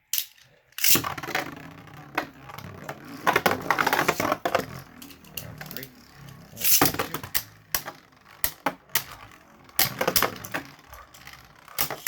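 Beyblade Burst tops, including Slash Valkyrie, clashing in a plastic stadium, with sharp clacking hits in several bursts amid whirring spins and a few faint voices.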